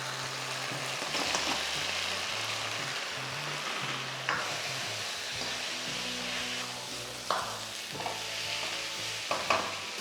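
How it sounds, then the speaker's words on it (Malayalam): Fried chicken stirred and tossed in a pan of Schezwan honey sauce, with a continuous sizzle and repeated scraping of the spoon against the pan, up close and steady with no talking. "ഇനി നമ്മൾ ഈ ഫ്രൈ ചെയ്ത് വെച്ചേക്കുന്ന ചിക്കനിലേക്ക് ഇത് കോട്ട് ചെയ്തെടുക്കണം."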